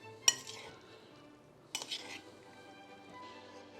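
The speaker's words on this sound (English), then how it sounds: "Put more stuff in, stir it in." Casserole ingredients being stirred in a mixing bowl, with a couple of sharp clinks of a utensil against the bowl and quiet scraping and stirring in between, close and faint.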